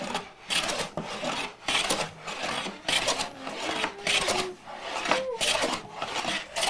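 Hand plane taking full-length smoothing passes along a piece of lumber, repeated rasping strokes about once a second, each a broad scraping swish with short gaps between.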